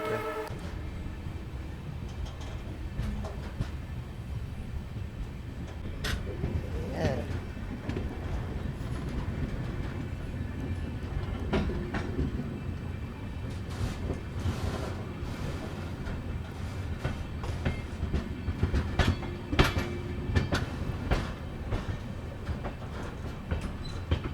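The Yeshwantpur–Bidar weekly express passenger train rumbles past nearby as it arrives, a steady rolling roar with scattered clanks and wheel clatter, no voices.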